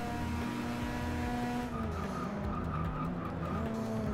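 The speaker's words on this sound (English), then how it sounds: "I just want to do some drifting" A Mazda RX-7 drifting in Forza 6, with loud sustained tire squeal and skidding over a revving engine, continuous and close throughout.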